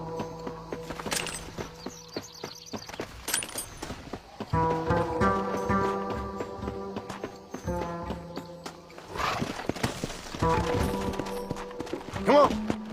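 Horse hooves clip-clop in a quick galloping rhythm alongside swelling music in the video game Red Dead Redemption, with short bursts of speech over the top.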